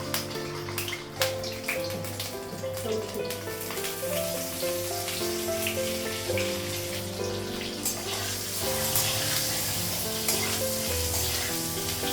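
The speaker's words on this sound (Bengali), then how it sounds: "তেল লাগালাম, ডিমটা আগে ভেজে নেব।" An egg fries in oil in a pan at home, making a loud continuous crackling sizzle that runs throughout, with some tonal background sound underneath.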